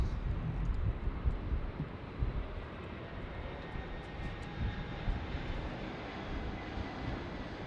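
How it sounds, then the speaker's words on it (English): A Delta Airlines Airbus A321 arriving at LAX produces a continuous low engine rumble with wind buffeting, heard at moderate distance and fading slightly, no speech. "A321 Delta Airlines."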